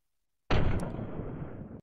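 A Beretta M12 (PM-12S) WOG gun fires a single loud burst on full auto, opening abruptly after brief silence and sustaining a dense rattling blast for over a second before cutting off.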